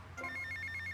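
A phone rings in GTA Vice City, a bright electronic trill that starts abruptly and repeats in quick, even pulses, clear and close over a low background hum.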